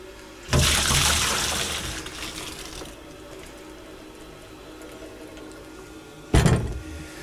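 Cleaning fluid gushes out of a beer keg in a loud, sustained pour that slowly tapers over a couple of seconds, then another sudden splashing gush comes near the end.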